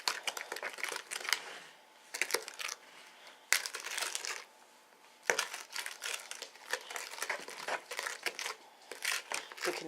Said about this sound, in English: You can hear all the sugar in the Jell-O